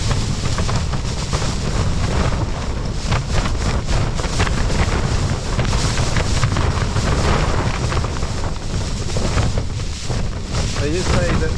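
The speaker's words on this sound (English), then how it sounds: "It's a little bit on the blustery side." Strong gusting wind at a wild camp on Dartmoor during Storm Betty, a loud continuous roar buffeting the microphone throughout.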